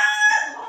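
A Sweater Kelso gamefowl rooster gives a short, loud, close crow, bright and piercing, fading off within a second.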